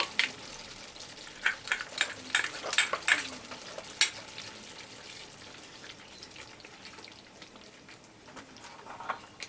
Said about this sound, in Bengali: দেখুন আমি আরো 1 মিনিট পর্যন্ত মিডিয়াম ফ্লেমে কষিয়ে নেব।